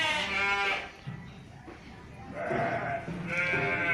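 Several Sakız sheep bleat in quick succession on a sheep farm, loud and close, with overlapping cries and a brief pause in the middle.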